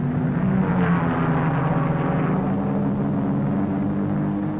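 Race cars roar past at the 1957 12 Hours of Sebring, including the number 7 Jaguar overtaking the number 2 Corvette, a constant loud engine drone and rumble through the whole stretch with no talking heard.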